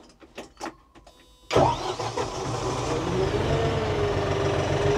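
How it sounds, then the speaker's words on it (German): A few quiet clicks and knocks, then a vehicle engine cranks and catches, settling into a steady, loud idle that runs to the end. "Lassen wir meinen Motor an"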